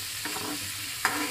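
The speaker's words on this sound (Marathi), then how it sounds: "आणि काजूचे गोळे टाकलेले आहे, तेही तेलावर चांगले फ्राय करायचे आहेत आपल्याला." Fresh Konkan cashews frying in oil with softened onion and tomato for a wet-cashew curry, a steady low sizzle broken by two quick spoon scrapes against the pan, close and alone.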